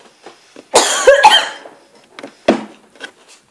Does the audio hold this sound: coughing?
yes